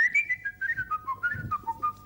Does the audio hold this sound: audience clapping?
no